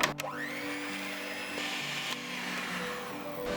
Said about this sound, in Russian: Взбиваем на низких оборотах до загустения